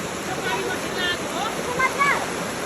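A fast-flowing hillside stream rushes in a constant broad roar close by, and faint voices speak over the water.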